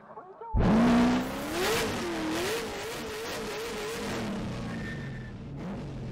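Onboard a drift car on the Type S course at Formula Drift Round 7, Utah Motorsport Campus, the engine bursts to a loud rev and holds a wavering, high-revving drone with pitch swings and tire noise throughout.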